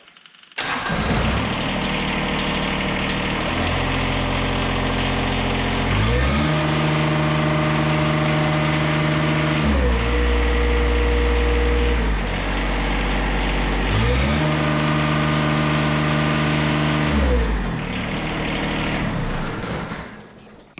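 A John Deere compact tractor diesel engine cranks, catches and runs steadily at close range, its idle rising and falling in several revs before shutting off, with no voices.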